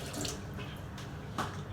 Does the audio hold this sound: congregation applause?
no